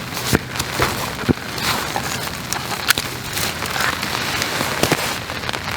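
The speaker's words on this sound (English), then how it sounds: "I'm going to go to sleep to the sound of this rain." Rain falling on a bikepacking campsite at night: a dense, steady hiss with scattered sharp drop impacts, close and fairly loud, with no talking.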